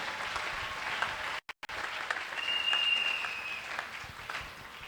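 A church congregation claps in sustained, fairly distant applause that swells briefly and then fades, heard in a large hall during a Bible seminar.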